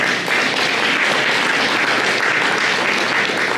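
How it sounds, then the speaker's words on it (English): Parents at a talk on how boys learn clap together in a steady, full round of applause that stays even and loud from start to finish. "Clap your, give yourself a hand clap for that."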